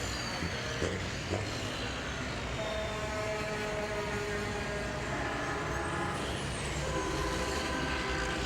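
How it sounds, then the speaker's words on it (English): Diesel trucks racing at Highland Rim Speedway, heard as a continuous roar of engines with rising and falling pitch as they pass, loud and steady throughout with no talking. "let you listen to the great sounds diesel truck racing here at the Bandit Series"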